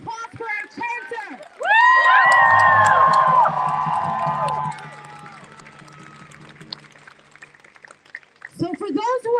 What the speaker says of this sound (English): Give another round of applause for our chanter.